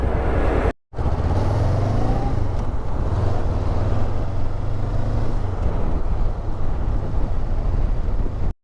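A 2024 Honda NX500 motorcycle being ridden: a loud, continuous engine drone with steady rushing wind noise throughout, broken by one very brief dropout near the start, and no voices.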